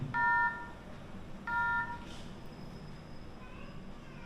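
Two bursts of dual-tone telephone keypad dialing beeps, each about half a second, followed by a faint, thin high tone from a phone line while making a call to a supposedly haunted number late at night.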